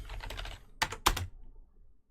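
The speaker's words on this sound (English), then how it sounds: "I'm going to type in something else." Keys clatter on a computer keyboard as a search query is typed, a short close run of quick taps ending in two louder strokes, then quiet.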